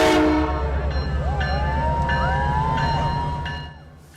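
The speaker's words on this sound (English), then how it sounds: "A lot of people showed up for the Canadian Pacific Holiday Train." The Canadian Pacific Holiday Train at its stop in Hastings sounds wavering horn blasts over a heavy, loud low rumble that fades out at the end.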